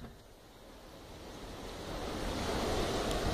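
Water from an overflowing dam all around, heard as a broad, continuous rushing wash that grows louder toward the end, mixed with wind noise and no talking.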